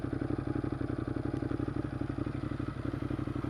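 A 2014 Ducati Monster 821 idles in Sport mode, a low, rapid, even engine throb, faint and close, with no talk over it.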